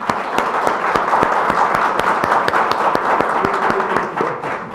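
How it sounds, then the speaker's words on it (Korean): Audience applause at a Korean national assembly intellectual property policy forum seminar, steady dense clapping filling the room at close range throughout, fading slightly at the end, with a faint voice underneath. "박수 한번 쳐주시기 바랍니다."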